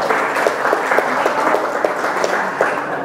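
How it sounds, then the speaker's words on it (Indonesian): A crowd at a stand-up comedy show in a cafe applauds with steady, fairly loud clapping that carries on evenly for a few seconds, with individual claps standing out and no voices over it. "Itu kami boleh minta tepuk tangan ya teman-teman"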